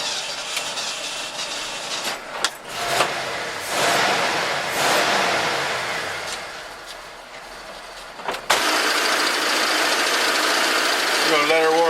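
A Ford F-100 V8 with a carburetor runs steadily, rising as it is given a little gas and settling again, with a sharp jump in level near the end; no words are spoken.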